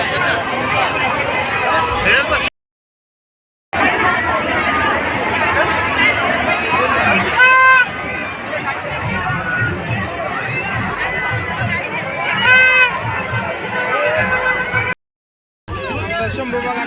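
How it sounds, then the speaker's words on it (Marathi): A dense crowd at a busy fair chatters all around, a thick constant babble of many voices close and loud, with brief bursts of brighter sounds rising above it and a couple of short dropouts into silence. "जाम गर्दी तिकडे पण सगळ्या साईडला भरपूर गर्दी सगळीकडे पॅक आहे पूर्ण"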